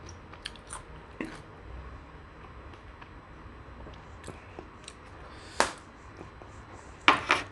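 Someone chews a spicy Thai raw beef salad (koi, Udon style) with quiet, wet mastication and small crunches, ending in a couple of sharper bites close to the mic.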